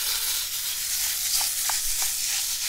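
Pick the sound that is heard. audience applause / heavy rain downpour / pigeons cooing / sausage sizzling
sausage sizzling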